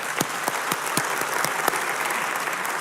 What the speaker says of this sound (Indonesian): mari kita tepuk tangan untuk brother sister seperti itu